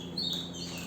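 Small birds give soft, faint chirps in an indoor bird room, brief high tweets over a steady hiss with no voices.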